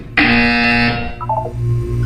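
A loud electronic buzzer from the video game Portal 2 blares for about a second, then a short series of descending beeps follows over a low background hum.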